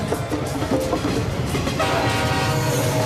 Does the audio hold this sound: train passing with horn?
yes